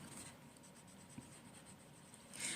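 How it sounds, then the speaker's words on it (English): Soft, steady scratching of an Albrecht Dürer watercolour pencil shading black on paper in quiet, repeated strokes, with a slightly brighter rub near the end. "So I'm just shading there with a little bit of the black."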